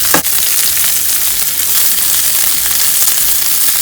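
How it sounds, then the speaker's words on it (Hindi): Broccoli and bell pepper being lightly sautéed in a pan give a steady, loud sizzle and crackle that runs the whole time, with a brief stir near the start. "इसके साथ में जो ब्रोकली और ये डाला था शिमला, उसको मैं थोड़ा सा हल्का सा सौते करके वेजिटेबल्स को निकाल लूँगी।"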